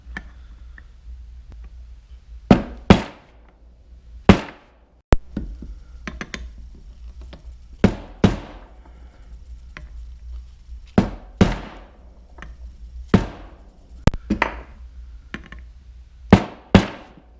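A welch plug tapped into a 1956 Evinrude Fastwin 15 hp outboard carburetor using a socket extension: about a dozen sharp metallic knocks, spaced irregularly, some in quick pairs, loud and close against a quiet background.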